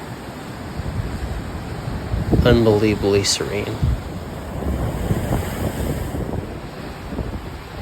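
Sea waves wash below an Irish cliffside while strong wind buffets the microphone in a continuous roar; a voice speaks briefly partway through.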